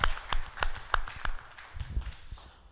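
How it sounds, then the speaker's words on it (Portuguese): A church congregation claps at a Portuguese-language sermon, a short uneven burst of claps that is fairly faint and thins out toward the end, with no speech over it. "Uma salva de palmas ao Senhor"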